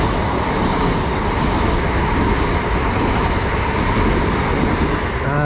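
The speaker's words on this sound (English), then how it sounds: "passing through now is a faster service from Hastings to London Charing Cross. This one doesn't stop here." A Hastings to London Charing Cross passenger train, a class 375 unit, runs non-stop through an East Sussex station, a loud continuous rushing roar with rail noise holding steady, no voices.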